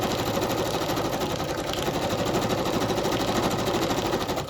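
A sewing machine straight-stitches through junk mail with a fast, steady mechanical rattle that stays loud and close from start to finish.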